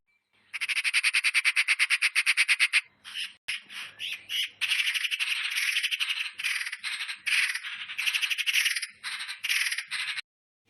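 Magpie chattering in long, rapid, rattling bursts with short breaks, fairly loud and steady, with no voices present.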